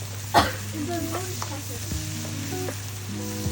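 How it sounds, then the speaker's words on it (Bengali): Spices and onions sizzle and fry in a pan while being stirred, a steady close crackle with scraping stir strokes and a brief sharp knock near the start. "এরপর আপনি পেঁয়াজের সাথে মশলাগুলো মিক্স করে দেবেন।"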